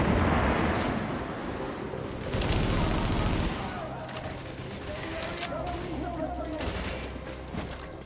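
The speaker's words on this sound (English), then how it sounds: "Fuck it, I'm throwing a grenade, guys." A grenade blast and rattling gunfire in the video game The Division, set in a subway: a loud burst opening, then heavy continuous shooting and booms, with voices talking over the combat.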